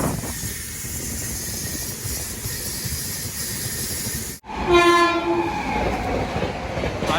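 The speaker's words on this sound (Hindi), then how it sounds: "भाई साहब बहुत ही ज़्यादा स्पीड से निकली है दोस्तों ये ट्रेन" A train rushes past at high speed close by, a loud roar with wheel clatter that dips briefly then surges as the cars sweep through, with a tonal whine and no voices.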